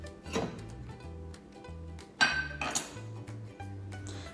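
A dessert is scraped and spooned from one bowl into another, with several close, sharp clinks and knocks of a utensil against the dishes and soft scraping between them in a quiet room.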